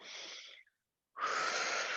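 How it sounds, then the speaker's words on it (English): A long, airy breath drawn in through the nose, then a pause and a second, stronger inhale, both close and with no talking. "So sometimes I'll have you do a big breath in through the nose,"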